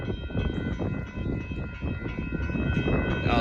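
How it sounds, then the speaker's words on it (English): Amtrak Texas Eagle 22 train passing close by at a road crossing in Austin, Texas, a steady low rumble with dense clacking and rattling of the cars throughout. "Oh wow, it's Amtrak."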